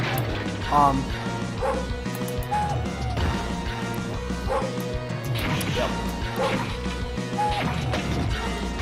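Dog barks and yips from the arcade beat-'em-up Vendetta, repeated among smashing and whacking hit effects over a busy game soundtrack, with a voice talking throughout.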